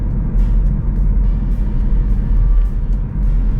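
A car cruising along a road and easing off as it nears traffic lights, a steady low road and engine rumble with tyre noise close by, no voices.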